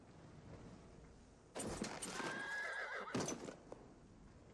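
A horse in the Battlefield 1 beta neighs in a loud, drawn-out whinny lasting nearly two seconds, mixed with hoof clip-clops, over a faint low background.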